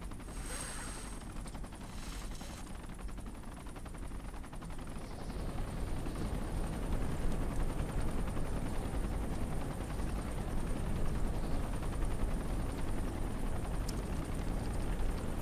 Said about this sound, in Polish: Być może z helikoptera będziemy strzelać.